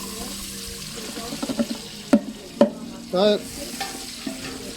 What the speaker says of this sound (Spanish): Ya tengo bien caliente mi cebolla. Está friendo ya.